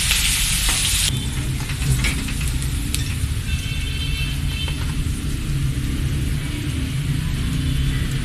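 Garlic, green chili and ginger paste hits hot oil with a loud burst of sizzling. Steady close frying crackle follows, with occasional stirring scrapes underneath.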